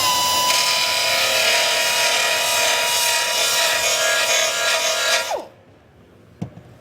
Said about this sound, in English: So I'm going to go ahead and I'm going to grind down some of these welds